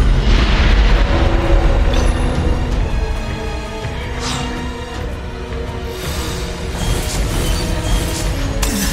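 Bombs exploding in the video game Xuan-Yuan Sword VII, loud booming blasts that roll over one another through a continuous rumble of battle noise, with no voices.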